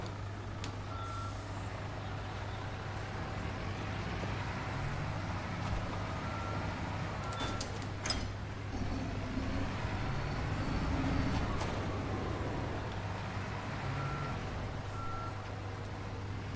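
Reversing beeps from a construction vehicle in Bau-Simulator sound as steady repeated tones over a constant low engine hum and rumbling machinery noise, with no talk.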